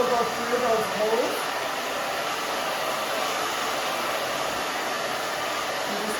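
A hair dryer blows on short hair while a brush works through it, a loud steady whoosh with a high whine lasting the whole stretch, briefly shifting in tone early on.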